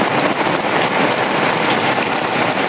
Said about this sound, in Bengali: আজকে শুধু বৃষ্টি আর বৃষ্টি